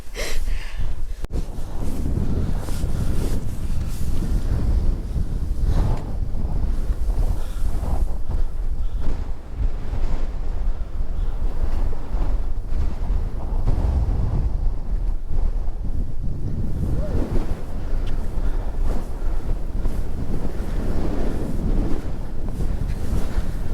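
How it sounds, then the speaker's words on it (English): Loud, continuous wind buffeting the microphone on high ground in Dalby Forest, Yorkshire, with low rumbling gusts that swell and ease over the whole stretch, no clear voices. "I don't know how much you'll hear through the noise of the wind."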